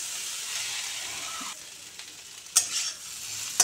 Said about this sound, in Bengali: দেখুন কুমড়োটা ভাজা ভাজা হয়ে গেছে